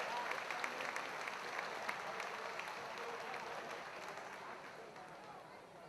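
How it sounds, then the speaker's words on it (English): Spectators at Sharon Speedway give a driver a round of applause after she climbs out of her car. The clapping is steady and somewhat distant, a dense patter that keeps a constant level throughout. "give her a nice round of applause"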